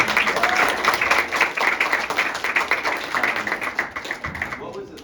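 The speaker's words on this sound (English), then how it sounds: "Round of applause" An audience at a library live chat applauds steadily, dense clapping that stays loud for about four seconds before thinning out.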